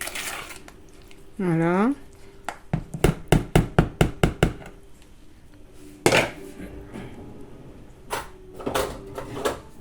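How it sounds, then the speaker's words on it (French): A spoon stirs homemade strawberry jam in a pot, giving a quick run of rhythmic clinking knocks against the metal with a few scattered scrapes, while a person talks in between. "Donc là je remue bien."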